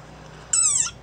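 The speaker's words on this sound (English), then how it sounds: "Like this desert rain frog. Squeaking viral sensation." Desert rain frog giving a single high, thin squeak lasting under half a second, loud and close against a quiet background, with no other sounds around it.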